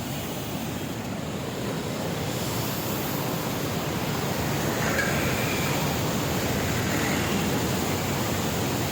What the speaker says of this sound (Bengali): জলের ঝিটাটা খুব আসছে